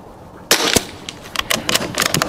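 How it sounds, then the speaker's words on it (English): Five sharp rifle shots in quick succession for a group, each a close, loud crack with short decay, irregularly spaced over about two seconds. "we're just going to shoot a 5-round group"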